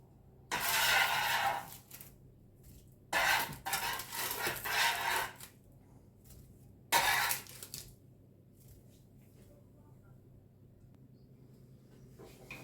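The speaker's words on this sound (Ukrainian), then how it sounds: "І зараз всю викладаю сюди в миску" Oven-baked country-style potatoes tipped and scraped from a tray into a bowl, three short bursts of clattering and scraping separated by near silence, close by.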